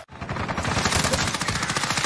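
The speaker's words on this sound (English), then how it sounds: "Taking direct fire." Rapid, continuous automatic gunfire from a video game firefight, loud and close, with dense rattling bursts running without pause and no talk over it.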